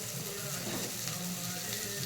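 Eggs frying in a pan with cabbage leaves, garlic, black cumin, green chili and salt: a continuous, even crackling sizzle throughout, moderately loud and close.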